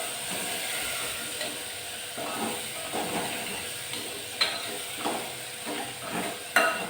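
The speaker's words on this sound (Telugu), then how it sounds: "పసుపు, ఇలా కొంచెం మగ్గించాలి." Vegetables with turmeric cook gently in a pan, giving a steady close sizzle and hiss with soft stirring scrapes throughout and a few sharper clicks near the end.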